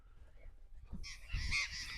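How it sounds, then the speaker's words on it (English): Parrots roosting on the walls of a deep eroded gully squawk and chatter in the distance, faint harsh calls rising in a burst toward the end over quiet background noise. "the noise you can hear in the background are these parrots which have decided to"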